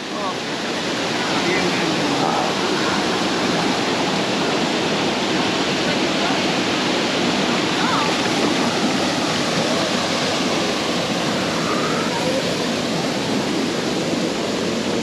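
A Colombian waterfall roars with rushing water, a steady, loud, broadband wash that holds constant for the full length with no breaks.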